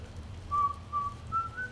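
Someone whistles the Mission Impossible theme while sneaking in The Elder Scrolls IV: Oblivion, a few clear rising notes in separate phrases, moderately loud over low background hum.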